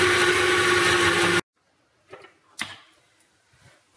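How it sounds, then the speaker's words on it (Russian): An electric mixer whisks curd batter for diet cupcakes, a loud steady whir that cuts off abruptly, then a few faint knocks and clatters in near silence. "И взбиваем до готовности еще одну минуточку"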